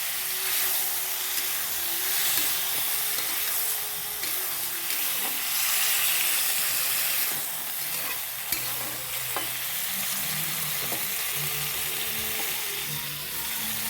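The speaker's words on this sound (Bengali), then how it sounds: "এবার ফুলকপি আলুটাকে ভাজা করে নিচ্ছি" Cauliflower and potato fry together in oil already used for frying fish, with a continuous close sizzle and repeated scraping stirs throughout and no one speaking.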